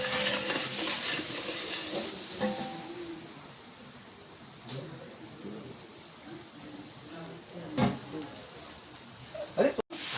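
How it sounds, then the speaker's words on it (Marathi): Spices sputter in hot oil in a big cooking pot for misal, made outdoors by a local cook: a constant hissing sizzle with a few sharp pops and clanks, and faint voices murmuring in the background. "फोडणी देत आहेत."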